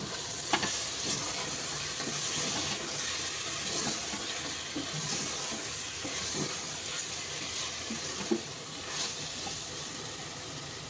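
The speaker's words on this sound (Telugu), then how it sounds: "బాగా కలిపేసుకుందాం మొత్తం అంతా కలిసేలాగా" Soft sizzling with repeated scraping and clinking of a spoon stirring Telangana-style gongura chicken curry in a frying pan, steady and close, no talking.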